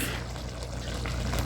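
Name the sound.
liquid poured off a small can of food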